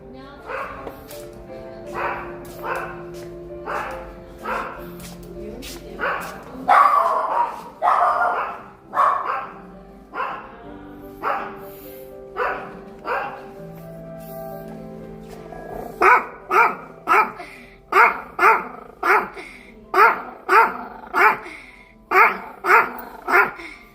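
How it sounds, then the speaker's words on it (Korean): A dog barks repeatedly in short, loud bursts, mixed with growls, in a steady rhythmic run that grows denser and louder toward the end, while a person talks over it. "쟤는 내 나한테만 저렇게 짖죠."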